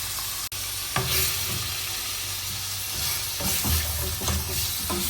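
Prawns stir-frying in a hot pan with garlic, a loud continuous sizzle up close with occasional tossing and scraping sounds, no talk.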